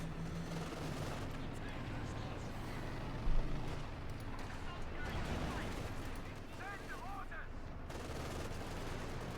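Gunfire and artillery from the video game Company of Heroes 2 form a dense, continuous battle din of shots and explosions, with a sharp blast near three seconds and voices talking over it throughout.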